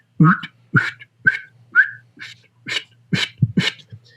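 A duck call blown with whistle-like breaths gives a series of about nine short, breathy chirps in an uneven rhythm, close and clear.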